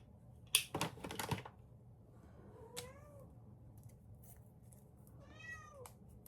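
An indoor pet cat lets out several loud, drawn-out meows with rising and falling pitch, near and clear over a quiet room, after a burst of brief clattering handling noise at the start.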